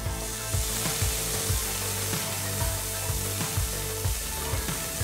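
Chopped onion with cinnamon, cloves, cardamom and stone flower frying in oil in a saucepan, a steady hiss of sizzling with soft periodic stirring knocks beneath it.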